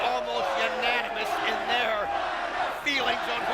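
A wrestling arena crowd at the Impact Zone chanting and roaring in unison for the wrestler Rhino during a match, loud and sustained, with rhythmic chant waves rising and falling.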